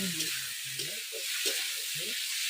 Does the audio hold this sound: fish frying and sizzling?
yes